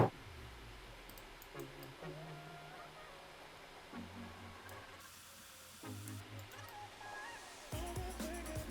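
Soft plastic membrane keyboard key presses in uneven bursts, muted and close, with faint background hum between them.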